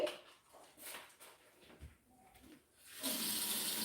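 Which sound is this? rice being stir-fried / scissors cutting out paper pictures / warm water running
warm water running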